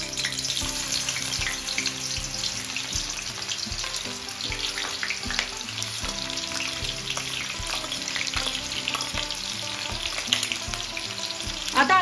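Sliced onion sizzles and fries in hot oil in a kadhai for a crab curry, a steady, close hiss with occasional clinks and scrapes of a stirring spoon against the metal.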